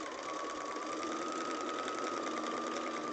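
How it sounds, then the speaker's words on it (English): A sewing machine stitches a foundation-pieced quilt block, a steady, close, continuous mechanical whir running unbroken throughout with no talking. "Sewing"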